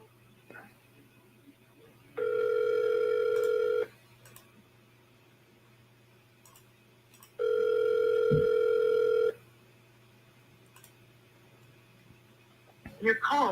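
A phone call rings out in two long steady tones separated by a pause before going to voicemail, heard over a low constant hum, with brief clicks and a burst of noise at the end.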